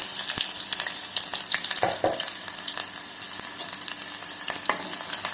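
Onion with cinnamon and cloves frying in oil in a small pressure cooker for chicken curry, giving a steady close sizzle with crackles and a few stirring scrapes throughout.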